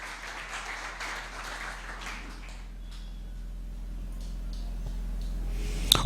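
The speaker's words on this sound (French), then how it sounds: "acclamez un peu pour m'encourager." A church congregation applauds during a sermon, a dense wash of clapping that is strongest at the start and then thins and fades away.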